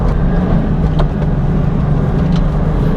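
A modded 2001 Ford Mustang Bullitt drives along the winding Pig Trail road, engine droning steadily and loud up close with constant road and wind roar, no talking.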